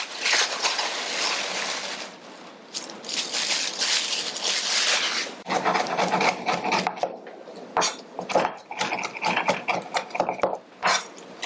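Knife finely chopping shrimp into a paste on a cutting board for a shrimp cake, with dense, rapid rhythmic chopping that becomes a steady run of sharp taps, close and fairly loud.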